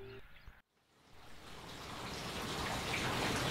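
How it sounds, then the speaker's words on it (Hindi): Irrigation water rushes steadily along a channel beside a wheat field in a village, a broad close hiss that swells louder over a few seconds after a brief sound at the start. "ये वाला खाला जो है वहाँ से आ रहा है और पानी जो है आगे जा रहा है"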